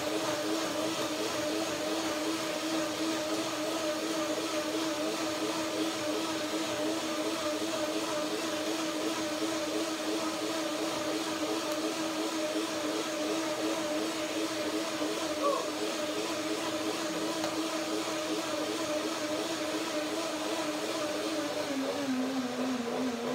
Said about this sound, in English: I will blend it in the first way now, the first blending, and make another blending afterwards to make it creamier